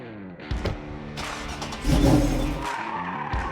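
A Trailblazer SS built as a drift car, with camber adjusted through upper control arms, whips around a cone; the engine revs and tires squeal in a loud, rising skid that swells mid-way, with no talking.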